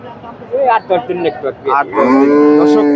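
A dairy cow lows at a crowded cattle market, a series of short grunting moos building into one long, loud, drawn-out moo close by, with voices faint behind it.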